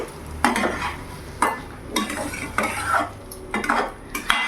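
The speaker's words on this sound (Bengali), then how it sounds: "এবার ভালো করে আমি নাড়াচাড়া করে নেব।" A spoon scrapes and knocks against a pan as pointed gourd pasinda is stirred, a string of separate clattering strokes roughly once a second over a soft background sizzle, close up with no talking.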